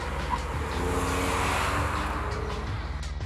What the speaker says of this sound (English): Go past the 3000 RPM mark and you are greeted with a throaty exhaust note